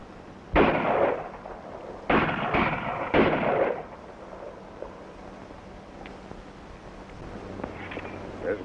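Gunshots from a 1932 film serial ring out in a few sharp bursts: one blast, then a rapid cluster of three shots a moment later, fairly loud and close, followed by quieter ambience.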